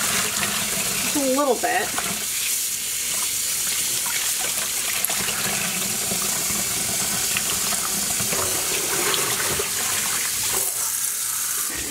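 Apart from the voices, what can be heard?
tap water running to refill a dye pot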